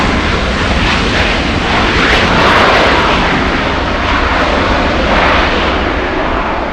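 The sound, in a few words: Southwest Airlines jet landing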